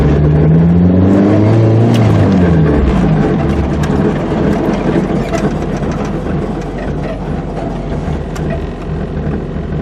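A Nissan 240SX S13 engine revs loudly while driving, the pitch sweeping up and down in the first seconds, then settling into a steady, heavy drone with rumbling road and wind noise, recorded from inside the car.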